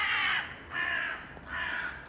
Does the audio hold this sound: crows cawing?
yes